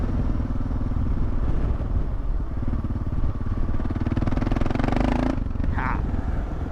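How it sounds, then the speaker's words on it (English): Motorcycle riding along a sandy dirt road in the Karoo, its engine droning steadily and close throughout with some clatter, cutting off sharply near the end. "It's a nice thing about this bike, it's so nice and light, dude."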